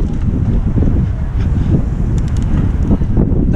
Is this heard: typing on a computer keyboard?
no